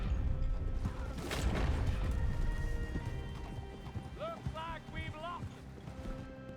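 A horse in Red Dead Redemption 2 whinnies in several short rising calls over steady clip-clopping hooves, with background game ambience and someone talking.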